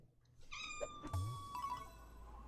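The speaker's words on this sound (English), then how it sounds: "cuddle my cat for a little bit so she chills down" A pet cat gives a single drawn-out, wavering meow close to the microphone, with faint rustling and a low rumble beneath it and no speech.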